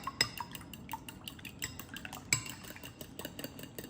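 Eggs with salt and white pepper being whisked in a bowl, a quick light rhythm of utensil clicks and clinks against the bowl, faint and close.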